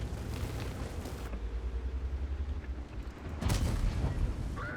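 A tank cannon booms in World of Tanks from an Object 274a, with heavy low rumbling and a sharp blast near the end against ongoing battle noise.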